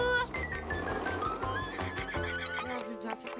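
Horse neighing in a French-dubbed cartoon, a loud, close whinny with shaky pitch running nearly throughout, backed by music and rhythmic clip-clop hooves.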